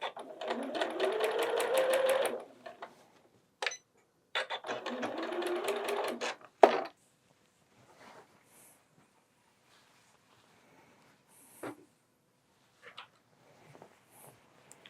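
A sewing machine stitches a quilt in two close, rapid runs of about two seconds each, separated by a pause, followed by quiet rustling and soft handling taps.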